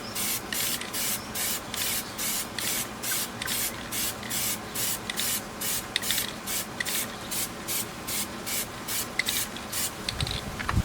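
Plasti Dip aerosol can sprayed over a car's 5.0 badge in repeated short hissing bursts, about a dozen evenly spaced sprays, close and steady with no talking.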